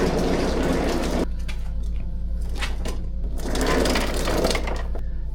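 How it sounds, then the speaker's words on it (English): An electric lawn mower with a large rear collection bag runs with a loud, steady motor whine, overlaid by whooshing surges of cutting noise, and no voices. "So this is my first experience with an electric mower."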